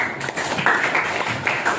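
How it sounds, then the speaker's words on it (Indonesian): Scattered applause from a school audience during an anti-corruption student council event, a steady patter of claps that swells and fades slightly over a couple of seconds with no voices over it. "Tepuk tangan terus"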